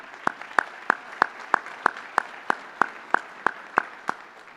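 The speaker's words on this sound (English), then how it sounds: "A round of applause for our automotive students." Clapping rings out at an honor society induction ceremony in a steady, evenly spaced beat, about three sharp claps a second, close and fairly loud.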